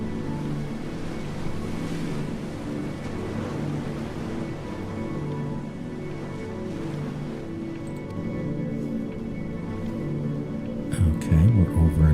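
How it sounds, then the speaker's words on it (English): Steady ocean wash in the video game Before Your Eyes, a broad continuous rumble of surf with no breaks, joined by a louder burst of sound near the end. "Ocean here."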